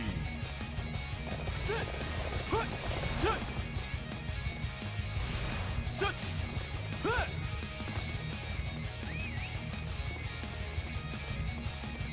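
Hoofbeats of a galloping horse in the video game Dynasty Warriors 9, with clip-clop footfalls and short whinnies over a busy game soundtrack, while a voice talks over it.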